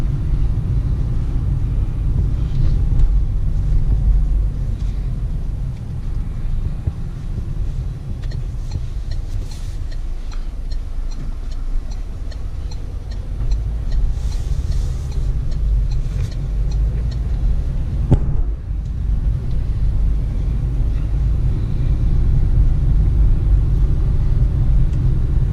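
A Peugeot Partner van driving smoothly, heard from inside as a steady, loud low engine and road rumble that continues without a break and has no talk over it.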